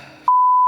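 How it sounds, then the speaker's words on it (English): Apple HomePod resetting gives one sustained pure electronic beep, sudden and clear after a brief quiet rustle. "Keep pressing until you hear 3 beeps."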